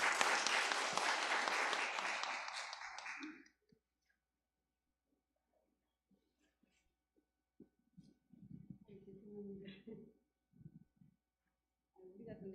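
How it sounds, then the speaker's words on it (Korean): Audience applause at a church gathering welcoming a deacon forward, a dense burst of clapping for about three and a half seconds, then fading out before quiet talk resumes. "박수로 한번 모시겠습니다"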